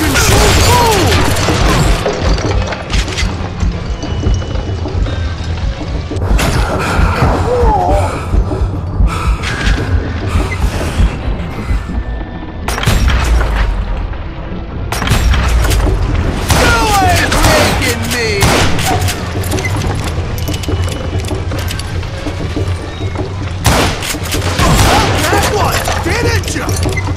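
Gunfire rattles through Call of Juarez: Gunslinger on hard difficulty: dense, loud volleys of shots and crashing impacts that keep up almost without a break, with brief lulls between bursts.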